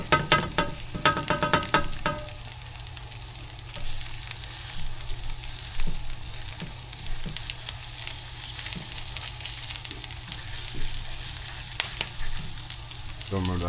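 A sunny side up egg fries in a pan with a steady, close crackling sizzle, scattered pops and a few scraping stirs early on.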